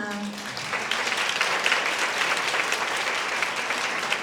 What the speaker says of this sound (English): applauses for them as well.